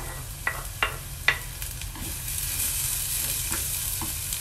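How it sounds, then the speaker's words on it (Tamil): Garlic and ginger fry in a pan for stuffed banana peppers, with a steady soft sizzle and a few sharp clinks of a spoon scraping and stirring near the start. "வெள்ளைப்பூடும் இஞ்சியும் கொஞ்சம் நல்லா சிவந்து வந்துட்டுது."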